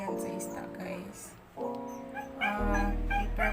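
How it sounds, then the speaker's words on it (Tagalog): A dog barks and yips in a few short bursts close by in a home kitchen while someone cooks fish, with talk and other noise mixed in. "Ang ingay ng aso na naman."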